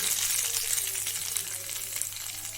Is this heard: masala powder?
yes